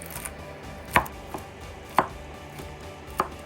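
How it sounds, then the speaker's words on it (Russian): A kitchen knife chops soaked walnuts on a board in three distinct, crisp thuds about a second apart, close and fairly quiet, with no talking. "Покрошим их ножом."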